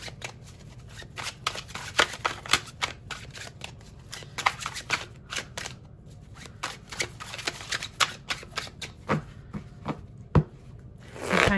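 Tarot cards being shuffled by hand produce a quick, irregular run of crisp riffling snaps and flicks, close and fairly loud, continuing for over ten seconds with no talk.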